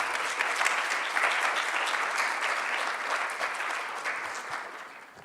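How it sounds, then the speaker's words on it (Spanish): Sustained audience applause welcoming a speaker at a biotechnology symposium, a dense crowd clapping steadily throughout and tapering slightly toward the end. "Demos un aplauso para recibir a la maestra Ana Laura."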